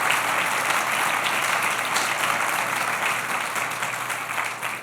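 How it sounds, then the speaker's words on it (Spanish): A congregation at a church sermon gives sustained applause for the Lord, a dense, even roar of many hands that holds steady and slowly fades. "¿No le das un aplauso al Señor por eso?"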